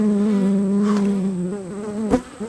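Honeybees buzzing around an open beehive with a honey super being worked: dense, close, continuous droning hum with wavering pitch as bees fly past, and a brief louder swell near the end.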